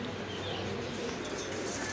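Soft cooing of Teddy pigeons in the background under steady ambient noise, with faint chirps; no talking.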